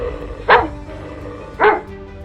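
A dog, an old man's pet in a horror story, barks twice, each a sharp loud bark about a second apart, springing at a huge strange monster over a low steady background.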